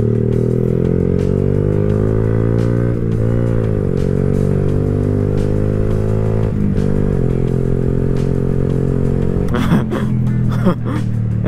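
Honda Grom MSX 125 mini motorcycle with a full Yoshimura exhaust, being ridden, gives a loud steady engine drone whose pitch rises and dips with throttle changes, ending with a few clattering knocks.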